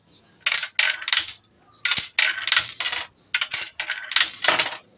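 Coins dropping into a universal coin slot during calibration, clattering in quick bursts of metallic clinks and rattles, close and fairly loud, with brief pauses between batches.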